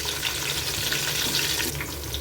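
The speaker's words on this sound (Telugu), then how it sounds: "ఇందులో మనం కట్ చేసుకున్న ఈ ఆనియన్ పీసెస్ని యాడ్ చేసుకుంటున్నాం. ఆనియన్స్ కూడా బాగా వేయించుకోవాలి" Chopped onion pieces fry in a pan for a vegetable pulao, giving a steady, close sizzle with a bright watery hiss that runs unbroken throughout, with no talking.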